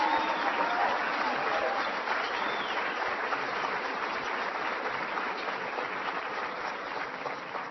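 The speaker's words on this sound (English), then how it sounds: "Would you all mind giving a big round of applause to the 43rd Governor of the great state of Iowa, Governor Kim Reynolds?" A crowd at a political rally in Council Bluffs, Iowa, breaks into sustained applause that holds at a steady level and thins slightly toward the end.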